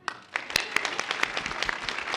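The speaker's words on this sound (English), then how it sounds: "By a round of applause, how many of you are old enough to know who Dick Clark is?" At a comic convention panel, an audience answers with a round of applause, many hands clapping in a brisk, building burst with sharp individual claps standing out, at moderate distance.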